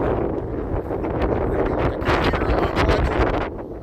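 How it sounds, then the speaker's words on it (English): Strong, continuous wind roars against the microphone in cold, snowy Chicago, loud and rumbling throughout, easing slightly at the very end. "It's so windy."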